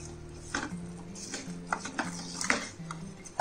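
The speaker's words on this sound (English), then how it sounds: "Stir this well and allow this to cook on high flame for at least 3 to 4 minutes." Dal being stirred in a cooking pot over a high flame, with soft scraping and clinking of the spoon against the pot in a few irregular strokes, fairly quiet and close.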